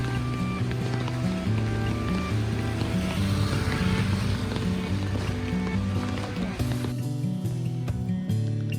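Heavy rain pours onto a street in Bangkok's carpenter district, a dense, steady hiss that fills the whole clip at an even level, with faint tonal sounds running underneath.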